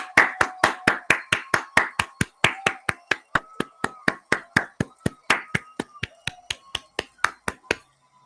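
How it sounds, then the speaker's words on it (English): Steady rhythmic hand claps, about three per second, ring out sharp and close for several seconds with a faint voice underneath. "let's clap it up for all the mothers"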